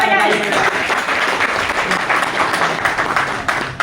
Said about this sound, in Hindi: एक बार और जोरदार तालियां बजाइए